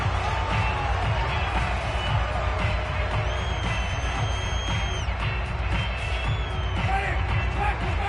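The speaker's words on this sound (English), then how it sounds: "Plenty of shouts from this crowd as they watch the replay" Crowd in a Madden football video game roaring and shouting during a replay, a dense, steady wash of voices with a few whistle-like tones rising above it, holding level throughout.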